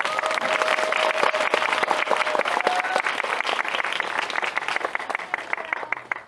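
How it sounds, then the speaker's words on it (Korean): An audience at a film Q&A screening in Korea applauds steadily as two guests enter, with dense, continuous clapping filling the room and a faint voice over it. "먼저 한번 두 분 이렇게 동시에 입장하셨는데 박수 한번 부탁드리겠습니다"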